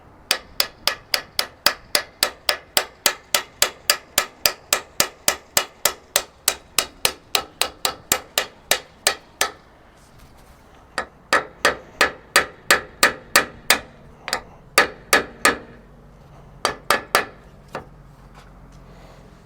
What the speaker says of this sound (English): You can tap on these bearings. The thing is, you got to keep the cap on it while you're tapping.